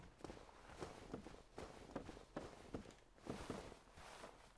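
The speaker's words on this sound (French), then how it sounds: "J'entends des bruits de pas." Footsteps in the video game Dark Souls: a steady series of thudding steps at a walking-to-running pace, fairly quiet, repeating evenly across the whole stretch without talk.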